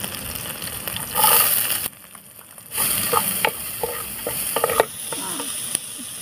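Onions sizzle in a pot over a mud stove, with stirring and scraping in the pot and a brief lull partway through, close up and with no talk.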